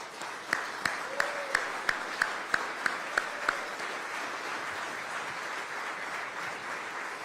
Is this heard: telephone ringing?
no